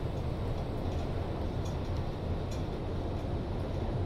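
Steady train running noise in Train Simulator 2, a 1994 regional express on the Erfurt route, a continuous dense rumble and rolling hiss with no breaks, close and even throughout.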